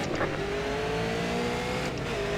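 Super Late Model race cars in iRacing at Thompson roar off at the green flag, a steady loud engine drone with rising pitch from several cars together and no talk over it.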